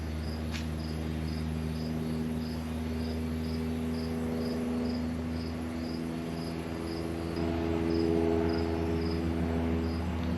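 Crickets chirp steadily outdoors during cooking on a Blackstone griddle, a continuous pulsing trill over a low background hum at moderate volume, with no talking.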